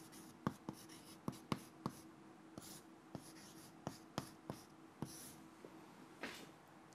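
Chalk or marker strokes on a lecture board, a series of sharp taps and short scratchy strokes in an irregular rhythm, fairly close in a quiet room with a low steady hum underneath.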